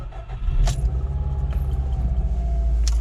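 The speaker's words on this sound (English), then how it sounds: "Got the car started." A car engine turns over and settles into a steady low idle rumble, with a few brief clicks and rattles nearby.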